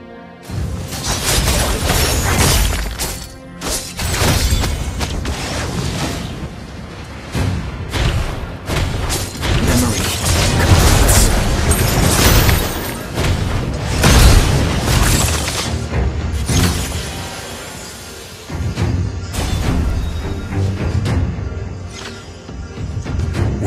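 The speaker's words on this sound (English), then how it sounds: "Your team destroyed the turret!" Turret destruction in the mobile battle game Mobile Legends, a sustained run of loud booming blasts and shattering crashes layered over dense game effects, with only brief dips between bursts.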